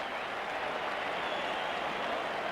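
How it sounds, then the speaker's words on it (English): A cricket crowd at an Australia versus England match cheers and claps in a dense, continuous roar that stays even throughout. "The crowd cheer"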